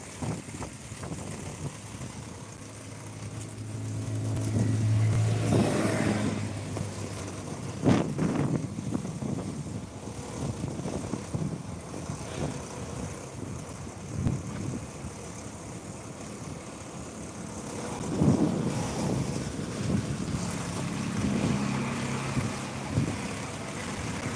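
Strong cyclone-like wind blows steadily outdoors, whipping up dust and swaying trees, with low roaring rumble and gusts that swell and fade over the span; no voices.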